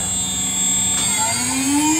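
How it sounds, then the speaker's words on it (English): A CNC router spindle on a CNC Router Parts CRP4848 machine is switched on. It gives a close electric whine whose tone rises steadily as the spindle spins up toward 24,000 RPM, over a steady background hum. "We'll get the spindle turned on."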